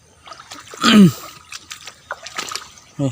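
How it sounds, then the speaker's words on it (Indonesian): Water splashes onto cucumber plants during watering, with one loud, close splash followed by quieter spatters and another short burst at the end. "Bang Miun sedang melakukan proses penyiraman."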